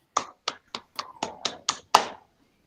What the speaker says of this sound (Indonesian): Tepuk tangan buat Astri.